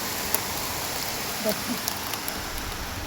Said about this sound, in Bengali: বাহিরে কিন্তু ঝুম বৃষ্টি হচ্ছে, এই ওয়েদারটা অনেক ভালো লাগে।